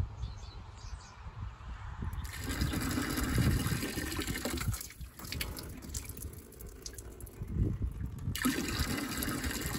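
Water gushes steadily into a 5-gallon bucket from a windmill-fed supply on a hot, dry pasture, a loud continuous pour that deepens and shifts in tone as it fills, with brief dips in flow.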